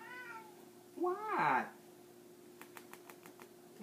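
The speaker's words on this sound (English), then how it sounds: "Don't know what my cat wants." A pet cat meows in a home kitchen, one drawn-out rising and falling meow after a faint shorter one, followed by a few light rapid ticks, with a person's brief spoken word close by.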